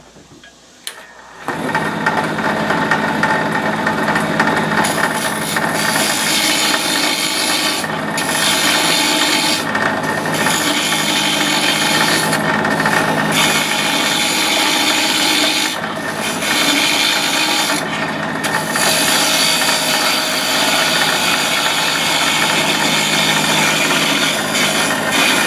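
A wood-turning lathe spins in a home workshop while sandpaper of different grits rubs against the turning piece, producing a loud continuous rasping hiss with a few brief pauses and shifts in pressure.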